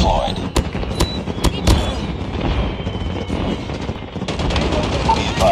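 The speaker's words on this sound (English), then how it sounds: "Sentry gun deployed." A deployed sentry gun firing in Call of Duty Mobile, rapid bursts of gunfire and explosions crackling close and loud through a busy multiplayer match, with game voice callouts over the top.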